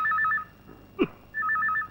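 Telephone ringing in a film scene, two trilling electronic rings separated by a short pause with a brief thump between them, clear and close with no talking.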